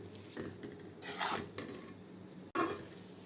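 Boiled ramen noodles are tossed with spices in a pan, making soft scraping, rubbing sounds and brief utensil clatter, close and quiet, with no voices.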